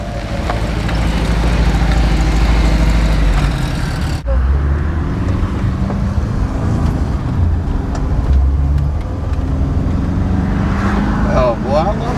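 A 1984 Volkswagen Vanagon rolls along the road with a steady, loud low engine and road rumble throughout, broken by a brief dip partway through, and a person talks over it.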